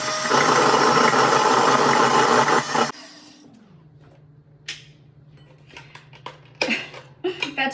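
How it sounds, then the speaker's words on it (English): An electric whisk or mixer whirs loudly and steadily while blending a creamy citrus body wash mixture until smooth, then cuts off, leaving a low hum with scattered clinks and handling noises. "So now we've got to whisk until it's smooth."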